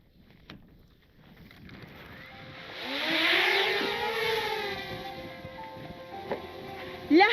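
Camera drone flying over the Atacama Desert near a meteorite crater, a high whining buzz that swells as it lifts off and then holds steady, with its pitch bending as it moves.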